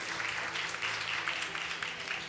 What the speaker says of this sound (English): Well, I see applause. Please do applaud for her.